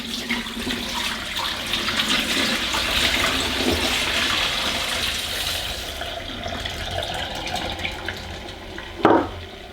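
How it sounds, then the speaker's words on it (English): Dirty water from a Rug Doctor FlexClean carpet washer pours steadily down a sink, a continuous gushing and splashing that holds for most of the stretch, then ends in a brief louder slosh near the end. "Let's have a look at all the dirty water. Again, I'm going to pour it down my sink with no apologies."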